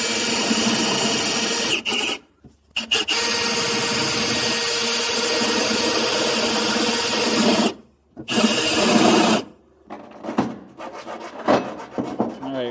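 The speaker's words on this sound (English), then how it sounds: "I'm going to be using a step bit to slowly walk this a little bit bigger" A drill with a step bit grinds through a truck bed to enlarge a hole, loud close bursts of rasping cut interrupted by short pauses, ending in shorter spurts.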